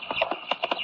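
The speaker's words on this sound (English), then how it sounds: "It sounds like a horse." Quick clip-clopping of horse hooves, several sharp knocks in a brisk rhythm, fairly close and clear.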